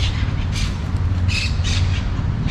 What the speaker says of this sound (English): you can probably hear those birds chirping away.